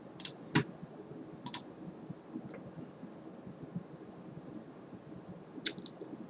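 A computer mouse clicks a few times, sharp isolated ticks spaced a second or more apart over a quiet low hum, close and crisp.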